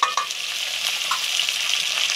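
Green chilies and garlic fry in hot oil alongside potatoes, giving a steady close sizzle with a few crackling spits and no voices.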